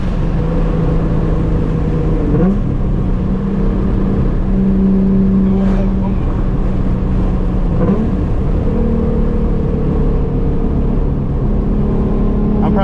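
Tuned E85 Nissan 350Z HR with 325 wheel horsepower heard from inside while driving, a loud continuous engine drone that rises in pitch through gears with brief shift breaks, steady throughout.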